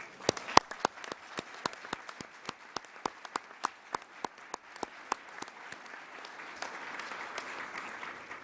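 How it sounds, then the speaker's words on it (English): Applause from an audience at a breakfast plenary, honouring Blue Star families, builds from a few sharp, distinct claps into steadier, denser clapping. "Let's give these families a round of applause as well."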